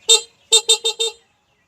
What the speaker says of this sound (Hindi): हॉर्न के बटन को प्रेस करके चेक करते हैं कि इसकी आवाज़